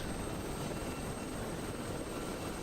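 In a video game, a damaged Mi-8 helicopter goes down, its steady rotor and engine drone muffled and even throughout, with no distinct crash or impact standing out.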